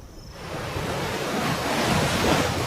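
Ocean surf breaks steadily along the coast of Table Mountain National Park, a dense, continuous wash of waves mixed with gusting wind that swells slightly louder toward the end, with no voices.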